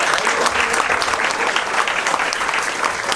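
Dense, steady applause from an audience at the inauguration of the Centrif, a coworking third place, lasting about three seconds at even strength.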